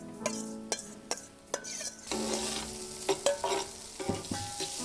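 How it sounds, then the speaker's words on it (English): Seasoned tofu being stirred into frying potatoes in a pan, with a continuous sizzle and a rhythm of utensil scrapes and clacks against the pan, close and clear. "So now we're gonna add our seasoned tofu into the potatoes and kind of get it all mixed together."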